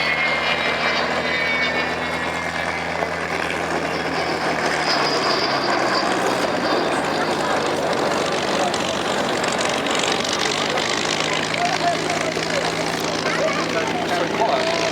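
Avro Vulcan XH558 bomber airborne at the Duxford air show, a broad, steady jet engine roar sustained throughout at high level, with a faint whine above it and no let-up in loudness.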